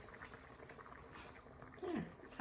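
Water boiling in a pot on the stove while chocolate-dipped peanut butter balls are made, a steady bubbling hiss running throughout at moderate level, with a brief louder clatter near the end.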